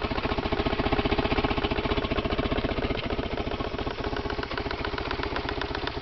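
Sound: car engine idling, throttle body noise

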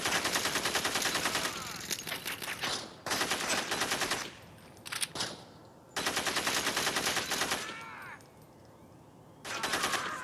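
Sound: gunfire in the video game Gangstar 4

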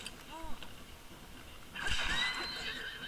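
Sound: horse neighing in video game Zelda Breath of the Wild

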